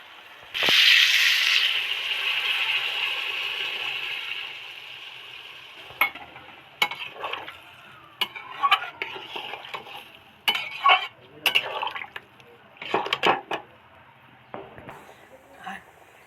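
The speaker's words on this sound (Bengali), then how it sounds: "এবার এই গরম জলটা এর মধ্যে দিয়ে দেবো" Hot water poured into a pan of fried soybean chunks gives a loud burst of hissing sizzle that gradually fades, followed by intermittent scraping and clinking of a spoon against the pan.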